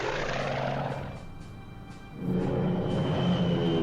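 Aircraft engine drone as bombers attack Antwerp in the World War II strategy game Strategic Command 1939, a steady propeller roar that dips briefly, then swells louder again.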